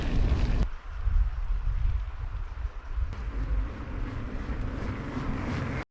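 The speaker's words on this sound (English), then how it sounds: "Still into this headwind, really windy." Strong headwind buffeting the microphone while mountain biking the Southern Upland Way in Scotland, a constant loud rumbling roar, with no voices.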